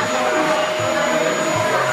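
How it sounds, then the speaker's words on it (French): A vacuum cleaner runs loud and close, a steady whooshing roar with a constant motor whine, heard on its own throughout. "C'est la première fois qu'il passe l'aspirateur de ça."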